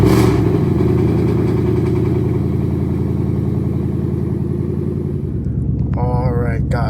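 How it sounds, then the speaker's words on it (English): A Ford Mustang GT California Special V8 cold-starting up close: a loud, steady idle rumble with dense clattering pulses throughout, easing slightly near the end as a voice begins talking over it. "we'll give you a little cold start."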